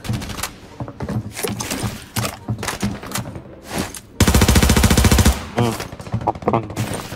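Automatic gunfire in the video game Arena Breakout: scattered shots, then a sustained, loud burst of rapid fire lasting about a second, with players talking over the combat between shots.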